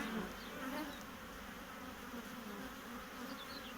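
Honeybees hum in a dense, continuous buzz from an opened hive, close and steady, with occasional individual bees droning past, alone without talk.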